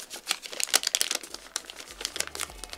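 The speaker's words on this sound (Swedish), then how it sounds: "Och sen så viker man ihop kanterna." Wrapping paper crinkles and crackles as its edges are folded around a gift, a close run of irregular rustles and crisp snaps with soft low thumps underneath.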